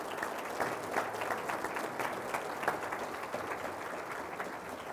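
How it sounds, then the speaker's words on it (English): An audience applauds the newly named 2024 board chair at a county state-of-the-county event, with dense, steady clapping sustained for the full five seconds at moderate distance. "Let's give a big round of applause to George Teal."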